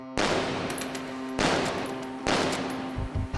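Three loud, sharp gunshots from a test-fired seized illegal gun, spaced roughly a second apart, each ringing briefly before the next, close by.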